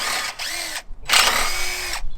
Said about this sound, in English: If you have power tools in your possession, use them.